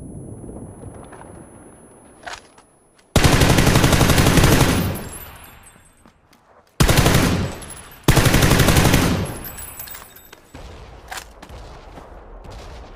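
Automatic gunfire in PUBG, a weapon with strong recoil, rattling out in loud sustained bursts with short pauses between them, over quieter background game noise.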